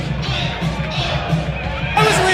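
A wrestling crowd on its feet cheering, a dense continuous roar of voices with a louder swell near the end, steady and close throughout.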